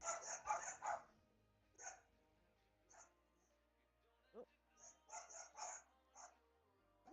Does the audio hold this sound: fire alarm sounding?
no